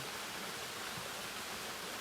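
A small Scottish burn ripples along under a blue sky, giving a steady, even rush of flowing water with no voices over it.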